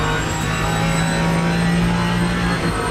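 A race car engine in the Le Mans Ultimate sim racing game at Silverstone, a steady droning tone held at a constant pitch, loud and continuous with no talk over it.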